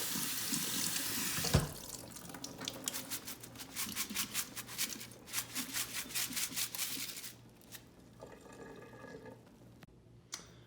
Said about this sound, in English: Now that the water is running clear through the bottom, these are well rinsed.